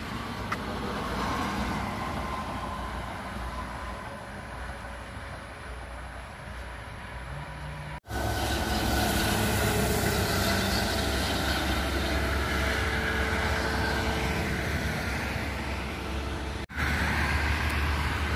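A Harapan Jaya bus on the Blitar–Jakarta route rushes past on a toll road, a continuous loud roar of engine and tire noise that swells after a brief dip and stays broad and steady, with no talk.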